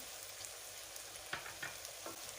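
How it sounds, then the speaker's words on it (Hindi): Onion, vegetables and spices frying in a pan for chicken macaroni, a steady soft sizzle with a few light stirring clicks, fairly quiet and close, with no talking. "सब्जियां और स्पाइसेस हमारे अच्छे तरीके से फ्राई हो गए हैं"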